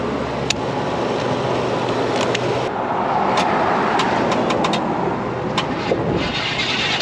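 A Chevy OBS truck engine held on the throttle to keep it from stalling, running with a steady, moderately loud rumble while sharp clicks and knocks sound intermittently nearby.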